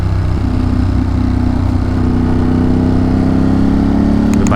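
A loud motorcycle engine on a ride through the forest upstate: a steady, close, throaty drone that holds throughout with no talking.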